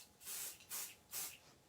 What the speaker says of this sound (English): I'm going to get the pixie spray. You have to spray it and kind of give it about 30 seconds